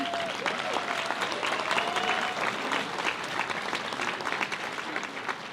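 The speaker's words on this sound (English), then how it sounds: "if we can give the graduates another round of applause" A large crowd claps steadily in sustained, dense applause for graduates at a university commencement ceremony, holding at a loud level throughout, with a voice briefly audible early on.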